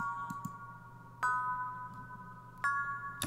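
A bell preset in an FL Studio beat sounds three clear metallic bell hits, spaced apart, each ringing briefly and fading over a soft, sparse beat.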